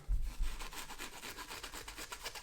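Textured book cloth fabric stickers being rubbed by hand give a soft, scratchy brushing sound that repeats in a steady back-and-forth rhythm, close and fairly quiet, with no voices.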